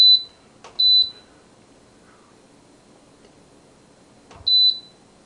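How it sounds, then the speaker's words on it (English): Sharp high-pitched electronic beeps from an oven control panel come in short pairs, repeating after a long pause, with faint clicks and a quiet background between them. "Sorry for the loud beeping"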